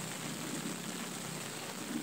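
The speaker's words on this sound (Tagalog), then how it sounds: "Umuulan na naman mga master." Steady rain falls outdoors by a lake in Pampanga where people are fishing, a continuous close hiss of drops on surfaces with no talk.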